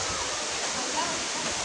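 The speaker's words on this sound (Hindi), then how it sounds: "वाटरफॉल ऊपर की तरफ है।" Pradhanpat waterfall in Deogarh roars as a steady, dense wash of falling water, loud and unbroken throughout the short stretch.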